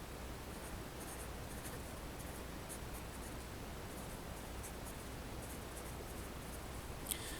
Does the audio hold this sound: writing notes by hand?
yes